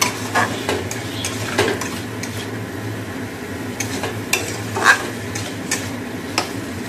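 Spice paste (masala) for chicken being stirred and fried in a pan: a low steady sizzle with intermittent scraping and clinking of a utensil against the pot, moderately close.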